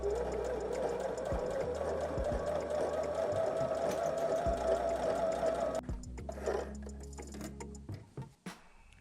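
A budget sewing machine stitches through eight layers of fabric in a fast, steady whirring run of close mechanical ticks that stops abruptly near the end, followed by a few brief clicks.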